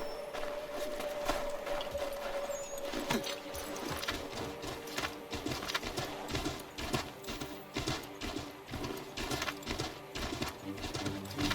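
Horse hooves clip-clop steadily in Assassin's Creed 3, a rhythmic run of close, moderately loud hoofbeats over a busy game soundscape with no talk.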